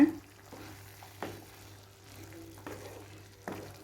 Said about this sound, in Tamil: இப்போ இது எல்லாத்தையும் நல்லா பரட்டி விட்டுக்கோங்க.